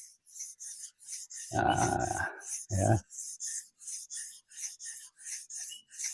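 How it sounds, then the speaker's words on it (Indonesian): Steady rhythmic rasping strokes of sandpaper smoothing a damaged crankshaft, about two per second, briefly interrupted by a short spoken remark and a grunt. "yang halus ini tetap kita harus amplas, harus amplas ya"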